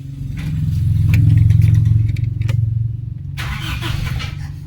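A car engine cranks and catches, settling into a loud, close, chugging idle that rises then evens out, with clattering and a brief hiss near the end.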